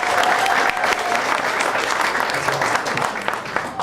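Steady applause from a comedy club audience in Cedar Key, a small-town crowd clapping continuously at fairly close range with no pauses, dense and even throughout.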